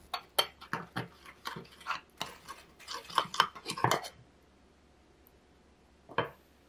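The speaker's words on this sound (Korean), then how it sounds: "물을 넣어 잘 섞어주세요." A spoon scrapes and clinks against a bowl in a quick run of about a dozen close strokes as miso, peanut butter, sugar, vinegar and water are mixed into a sauce, then a pause and one last clatter.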